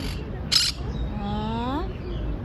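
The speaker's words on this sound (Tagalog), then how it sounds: "It's a parrot." A pet parrot gives a rising, whistled call that bends upward in pitch, heard close over a noisy outdoor background after a brief burst of rustling.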